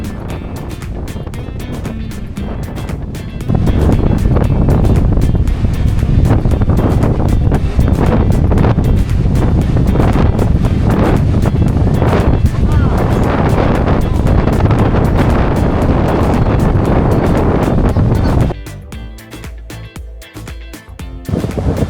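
Strong wind blowing at a beach with light rain starting, roaring loud and steady as it buffets the microphone, then easing near the end.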